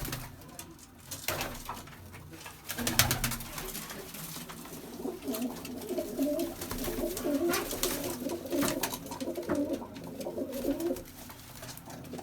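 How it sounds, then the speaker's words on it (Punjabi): Pigeons coo on a rooftop loft in Bathinda, sounding in soft, repeated throaty calls that rise and overlap, with occasional wing flutters and rustling nearby. "ਸੋਹਣੇ ਕਬੂਤਰ ਆ ਬਹੁਤ"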